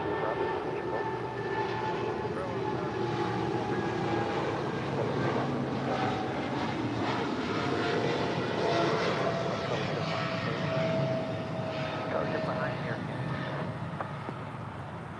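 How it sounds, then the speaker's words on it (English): Qatar Cargo Boeing 777 freighter at Los Angeles airport, a sustained loud jet engine rumble and whine with steady tonal lines, tapering slightly at the end, with a voice speaking over it. "This is Qatar Cargo 8105 departing to Chicago here on a 777 freighter."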